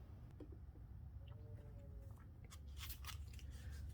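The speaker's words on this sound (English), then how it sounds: "So let's give this a little shuffle." Crisp, rapid riffling and snapping of cards, growing louder near the end, over a low background hum with no talking.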